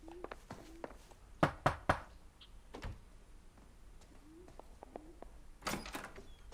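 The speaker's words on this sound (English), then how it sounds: "So we gotta knock on some doors" Knocking on a door in an LAPD detective video game: a quick burst of three firm knocks near the start, scattered lighter taps and thuds around it, and faint background ambience.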